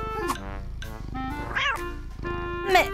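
Animated cartoon cat meowing several times in short, expressive bursts with rising and falling pitch, close and fairly loud, with no talking over it.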